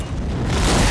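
An aircraft slams into a tower, falls and explodes in a loud, dense roar of rumbling noise that swells and builds over one second, with no voices.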